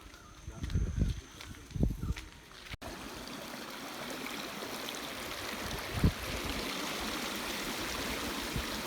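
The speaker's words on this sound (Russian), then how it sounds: "Так, ну вот, водопад." Rushing water of Ravana Falls and its stream on a forest trail near Ella, Sri Lanka, a steady broad roar that fills the scene after a few soft rustles and footsteps, with no talking over it.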